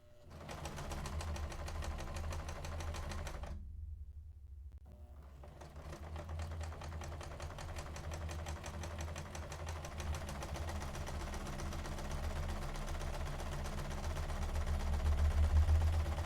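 Sewing machine stitching a fabric face mask, a steady rapid mechanical chatter running close and continuous, briefly stopping for about a second before resuming and growing slightly louder toward the end.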